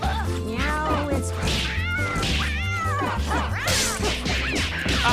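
A cat character in the fighting game Skullgirls meows amid frantic combat, with yowling cat cries layered over whacks, hits and steady game music throughout.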